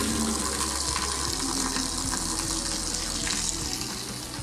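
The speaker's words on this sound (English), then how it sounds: "You'll see the water start to come out, but the pasta will stay in." Water pours and splashes steadily out of a tilted Vulcan VG30 braising pan holding cooked pasta in a commercial kitchen, a continuous close rushing and trickling with no talk.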